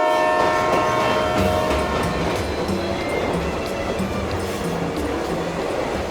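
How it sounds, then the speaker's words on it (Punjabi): The Kalka–Shimla toy train rumbles past near Taksal station with a loud horn blaring at the start, followed by the steady clatter of wheels on the rails. "ਕਾਲਕਾ ਤੋਂ 5 ਕਿਲੋਮੀਟਰ ਬਾਅਦ ਹੀ ਰੇਲ ਗੱਡੀ ਟਕਸਾਲ ਸਟੇਸ਼ਨ ਤੋਂ ਗੁਜ਼ਰਦੀ ਹੈ"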